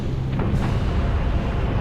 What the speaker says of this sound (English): Nuclear explosion right there.